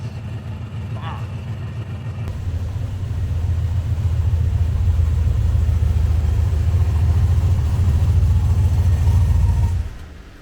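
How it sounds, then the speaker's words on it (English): Holden VK Calais running on the road, a steady low engine rumble building slightly as it drives along, then dropping away near the end. "The more I drive this car, the more impressed I am."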